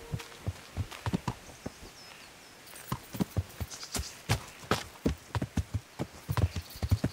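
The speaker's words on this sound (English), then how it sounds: "I can just go northwest on my horse." Horse hooves clip-clop at a steady walking rhythm in Kingdom Come: Deliverance, a continuous run of evenly spaced close thuds with faint game ambience behind and no speech over them.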